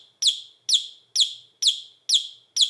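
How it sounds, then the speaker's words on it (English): Chirping bird sound from a vintage Christmas tree ornament: six identical bright, sharp chirps repeat at a steady pace, each about half a second apart, clear and close with silence between them. "Is this the sound you want to hear for hours on your Christmas tree? A chirping bird?"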